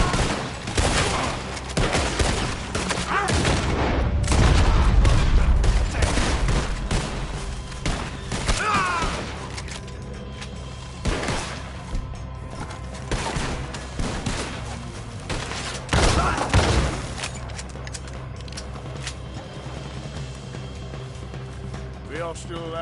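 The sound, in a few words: gunfire in Red Dead Redemption 2 video game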